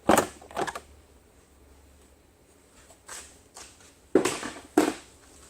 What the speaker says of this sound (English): All you need to do this is remove the oil cap and pull up on the cover.